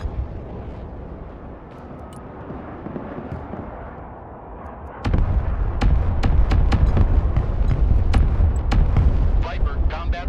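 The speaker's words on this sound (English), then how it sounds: "Strafing the area." Aircraft strafing gunfire in the Broken Arrow war game: after a low rumbling lead-in, loud rapid explosive bursts and sharp cracks crowd the second half of the clip, dense and close.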